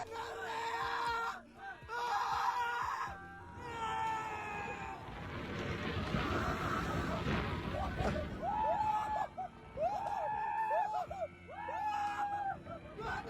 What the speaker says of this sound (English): It's so funny hearing grown men scream when they're on roller coasters.